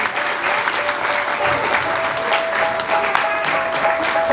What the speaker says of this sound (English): We can encourage her in a clap as she comes.